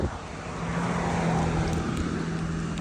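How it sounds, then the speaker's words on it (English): Road traffic passing a runner on a roadside, a broad steady whoosh of cars going by at moderate distance, rising slightly and holding, with no talking. "all these cars driving past"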